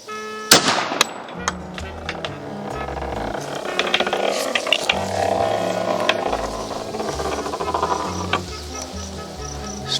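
A .45 ACP pistol firing a full metal jacket round into wood at an outdoor range, with one sharp loud crack early on followed by ringing outdoor ambience, insect-like whirring and faint later clicks.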